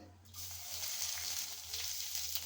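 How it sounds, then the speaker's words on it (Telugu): Coarsely crushed garlic cloves fry in hot oil in a pan with cumin, tempering spices and curry leaves, giving a steady close sizzle that swells after a brief quiet start, with a low hum underneath. "ఇలా వెల్లుల్లి వేగాలండి దోరగా"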